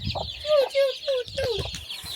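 A rooster and hens cluck in a village yard, a few loud, close, drawn-out squawking clucks with rustling and low background noise between them.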